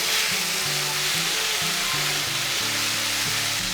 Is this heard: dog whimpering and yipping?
no